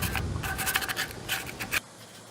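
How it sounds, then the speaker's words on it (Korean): Sandpaper scrubs a rusty car muffler from a 2002 Hyundai Avante XD in a rapid series of close, rasping strokes that stop abruptly near the end. "녹 제거제 뿌리고 사포질하고."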